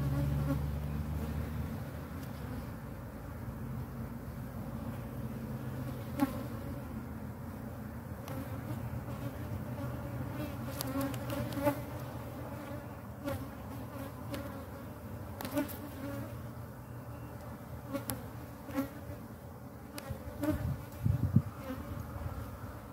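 Honey bees buzzing steadily around an open hive being split, a dense continuous drone close by with occasional louder passes near the end and no voices.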